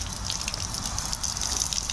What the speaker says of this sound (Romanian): Și aici apă curge non-stop.